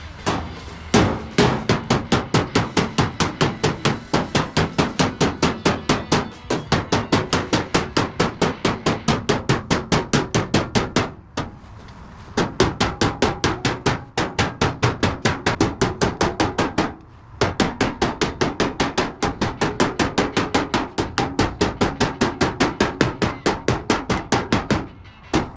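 Rapid, steady hammer blows on a dolly against a car door skin, a long run of sharp metallic strikes near and loud, broken by a few short pauses.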